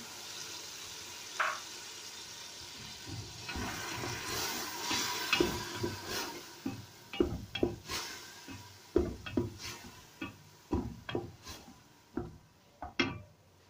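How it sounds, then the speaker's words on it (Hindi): Chopped tomatoes and green chilies drop into a cooking pot for shaljam gosht, giving a string of soft thuds and clinks with a low sizzle and scraping beneath, irregular and close, with no talk. "अब हम इसके अंदर चॉप किए हुए टमाटर डालेंगे, ग्रीन चिली डालेंगे चॉप की हुई"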